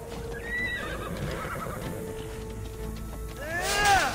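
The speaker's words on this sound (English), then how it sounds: "It's another horse." A horse in the Immortals Fenyx Rising game lets out a shrill whinny near the end, after a stretch of clip-clopping hooves and ambient game sounds, close and fairly loud.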